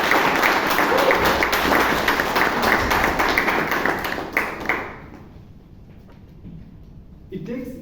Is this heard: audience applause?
yes